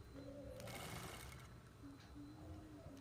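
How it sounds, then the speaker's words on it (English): A sewing machine stitches a skirt waistband in one steady, close whirring run of rapid needle strokes lasting a few seconds. "I'm going to sew it all round"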